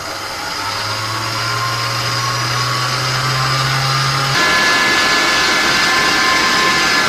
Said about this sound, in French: je vais fouetter à vitesse, je dirais assez forte, pour pouvoir blanchir les œufs et incorporer pas mal d'air